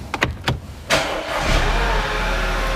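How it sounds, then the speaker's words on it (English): A car engine is cranked with a few quick starter pulses, catches with a loud burst, and settles into a steady idle, close by. "So we'll start up the engine."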